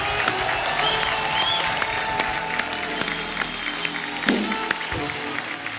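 A studio audience at a TV comedy show applauds the singer with continuous, loud clapping. Faint musical tones hang underneath.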